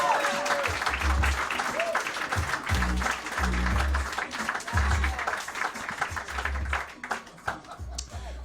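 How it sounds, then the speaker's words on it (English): Comedy club audience applauding and cheering at a roast battle, steady loud clapping with whoops and a low thumping music beat underneath that fades near the end. "Clap it up as loud as you can for the one and only Sheba Mason."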